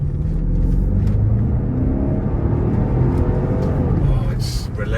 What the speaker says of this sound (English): surely will like that burble